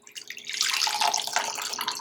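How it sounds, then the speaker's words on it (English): Liquid from a weight-loss bedtime drink is strained into a cup, giving a steady close-up trickling, splashing pour that keeps going for about two seconds without any talk. "we're gonna strain this directly into the cup."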